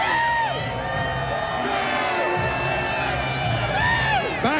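A large football crowd at Legion Field cheers and whoops throughout an XFL game between the Chicago Enforcers and Birmingham Bolts, a dense, loud, continuous roar with rising yells and shouts.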